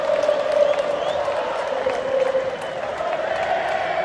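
A football stadium crowd gives a Huracán player a big ovation, a broad, continuous roar of applause and cheering that holds steady throughout, with commentary voices underneath.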